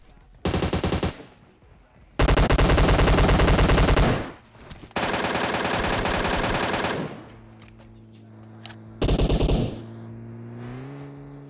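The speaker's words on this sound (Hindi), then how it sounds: "ये पीछे से गोली चलाते हैं" Bursts of rapid automatic gunfire in PUBG Mobile, several long sustained volleys separated by short gaps, with a vehicle engine humming in between.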